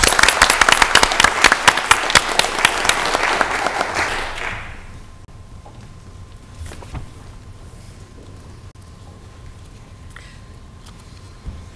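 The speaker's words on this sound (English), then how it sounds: "Let's give them another big round of applause" An audience at a Mobile, Alabama city council meeting applauds loudly for about four seconds, then the clapping fades out, leaving a quiet room with faint scattered noises.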